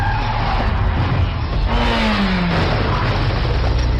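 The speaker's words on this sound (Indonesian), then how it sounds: "tiba-tiba mobilnya menabrak" A speeding car in a film chase skids hard, its tires squealing over a loud engine roar before it crashes, with the rumble and screech filling the whole moment and no voices.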